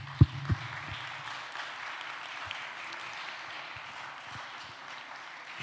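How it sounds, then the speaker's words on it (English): Audience applause at an aviation conference at Cluj airport, a steady, moderately loud wash of clapping from a crowd, continuing evenly after a couple of sharp thumps at the start. "But first of all, I consider big applause for Marcel Rivalski."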